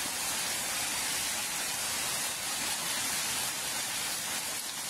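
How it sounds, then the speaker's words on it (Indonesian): Heavy rain pours over the city of Mamuju in a dense, steady hiss that fills the whole stretch without a break, with no voices. "hujan deras melanda"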